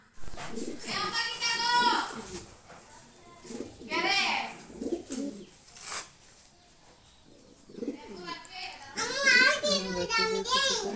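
Pigeons coo in soft, repeated phrases while a voice and other voices talk over them at close range.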